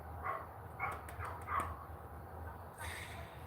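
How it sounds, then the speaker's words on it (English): A dog barks at some kids nearby, a few sharp mid-distance barks spaced across a few seconds over steady low background rumble, fairly faint overall. "my dog is barking at these kids"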